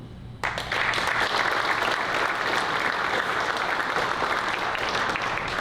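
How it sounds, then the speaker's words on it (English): Audience applause at a 2023 high school National Honor Society induction ceremony starts abruptly and then holds as a dense, steady roar of many hands clapping, loud and even, with no talk over it. "I ask that you give yourself a round of applause"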